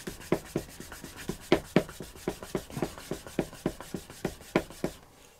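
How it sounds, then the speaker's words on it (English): A grooved wooden burnishing tool rubbed along the wet, stained edge of a leather phone case: a rapid series of about twenty close, crisp rubbing strokes in a steady back-and-forth rhythm, alone, stopping abruptly at the end. "I'll just get those fibres down a bit while that stain is wet with a burnishing tool."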